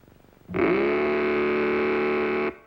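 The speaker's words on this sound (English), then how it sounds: "you can make it roar with Mattel's terrific new Baroom hot rudder engine" A Mattel Baroom tricycle engine toy gives a sustained, buzzing roar that revs up quickly, holds steady for about two seconds, then cuts off.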